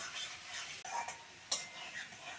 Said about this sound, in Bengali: সঙ্গে পেঁয়াজটা ভালো করে ভেজে নেব